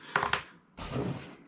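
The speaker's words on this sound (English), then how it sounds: "That's the sound of like 2 or 3 parts in there all being weird and stuff" A few small plastic pieces clatter and rattle inside a container in two short bursts, close and fairly quiet.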